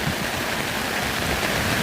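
Heavy rain pours in a dense, continuous roar, driven by strong wind, loud and unbroken throughout with no talking.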